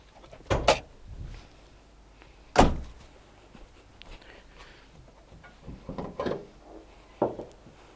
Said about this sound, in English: we're gonna have to open the bonnet.